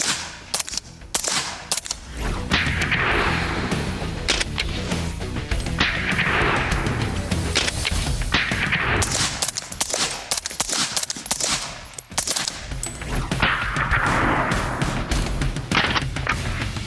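Rifle shots into cardboard: supersonic 5.56 rounds with a sharp bullet crack and subsonic 300 Blackout rounds, heard as a series of sharp, loud reports spaced several seconds apart with lingering echo between them.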